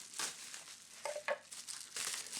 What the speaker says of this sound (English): Just have to cut through this.